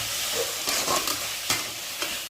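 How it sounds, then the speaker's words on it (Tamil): Curry leaves and coriander fry in hot oil while being stirred, a steady close sizzle with soft scraping strokes of the spoon running throughout. "கருவேப்பிலை கொத்தமல்லி போட்டிருக்காங்க. அதையும் சேர்த்து நல்லா வறுத்துக்கிறாங்க."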